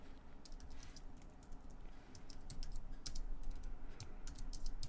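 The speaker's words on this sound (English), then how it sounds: "I'm having a real issue typing today." Fingers type steadily on a computer keyboard, a fast, uneven patter of close, crisp keystrokes that grows slightly louder toward the end, with no talking.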